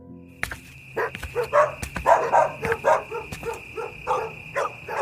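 A dog barks near a house in a series of sharp, close yaps and woofs, a dozen or so in an uneven rhythm, with a faint steady tone behind and no talk.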